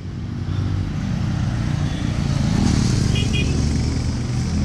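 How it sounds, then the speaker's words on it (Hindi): Several motorcycles of a group of bikers pass along a road near Munnar, Kerala, a steady loud engine drone lasting throughout with a swell in the middle. "कितने सारे बाइकर्स हैं यार, कितने सारे बाइकर्स हैं, ये ठेकड़ी के लिए जा रहे होंगे जरूर।"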